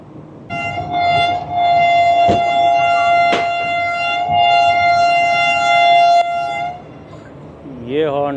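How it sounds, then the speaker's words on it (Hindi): The horn of a passing Pakistani passenger express train, the Shah Latif Express locomotive, blares in one long, loud, sustained note lasting several seconds, with rail clatter beneath and a short rising whistle at the end. "ये हॉर्न आप सुन रहे हैं जनाब,"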